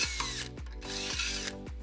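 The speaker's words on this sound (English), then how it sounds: "and then we'll drill our second hole." A power drill bores a hole for a Blue Ox baseplate on a 2017 Fiat 500 Pop/Lounge. It whines loudly in bursts that spin up and wind down about three times in close succession.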